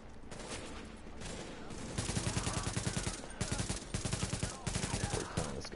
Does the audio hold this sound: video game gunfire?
yes